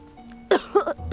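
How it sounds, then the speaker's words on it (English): Three quick, raspy coughs in close succession from a sick character in Octopath Traveler 2, fairly loud and near, after a quiet stretch with a faint steady hum. "Bad cough, huh?"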